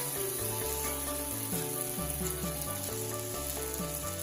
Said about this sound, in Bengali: ভালো করে মশলাগুলো ভাজবো